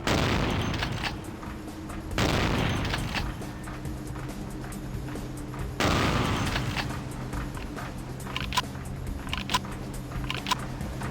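Gunshots in Vampire: The Masquerade - Bloodlines: two loud booming blasts several seconds apart, followed by lighter cracking shots over a constant noisy game backdrop.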